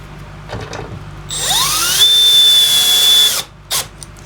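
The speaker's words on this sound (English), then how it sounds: "Now I'm going to bolt it down." A power drill spins up close, driving a bolt down into a wooden workbench: a rising whine that settles into a loud, steady high-pitched buzz for a couple of seconds, then cuts off, followed by a brief second burst.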